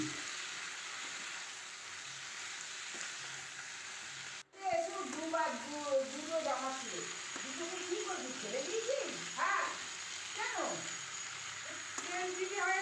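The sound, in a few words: stirring chicken stew with tomato in a pan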